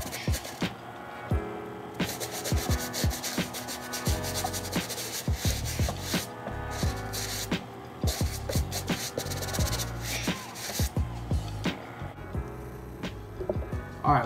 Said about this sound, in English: give this like a quick couple second scrub, like a 10 second scrub